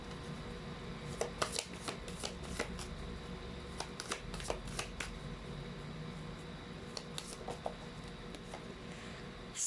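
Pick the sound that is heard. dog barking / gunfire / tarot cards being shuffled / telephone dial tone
tarot cards being shuffled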